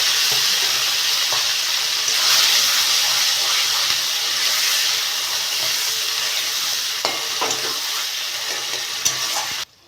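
Spices hit hot oil after cumin seeds have been fried, giving a loud, continuous hissing sizzle with a few light utensil taps, steady for several seconds before cutting off abruptly; no one speaks.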